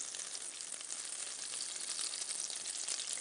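Butter and olive oil sizzling together in a pan, a soft, even, continuous hiss and crackle throughout with no talk over it.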